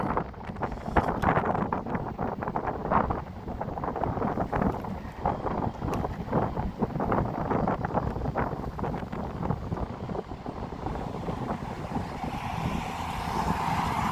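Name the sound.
wind blowing against rider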